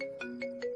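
A phone ringtone chirps in three quick repeating bursts over a steady tone, ringing on unanswered, clear and fairly close.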